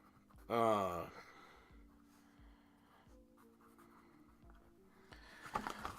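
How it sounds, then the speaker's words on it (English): Pen scratching across paper at a desk, quiet and steady for several seconds after a brief louder burst of noise, with faint background hum and a swell of sound near the end. "let me write this down"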